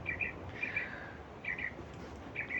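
Birds sing outdoors in short chirping phrases that repeat roughly every second, faint and somewhat distant over a soft background hiss.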